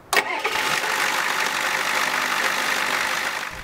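The International Harvester 6.9-liter IDI diesel in a 1986 Ford F-250 cranks and catches with a short burst, then settles into a loud, steady clattering idle, close by and uninterrupted.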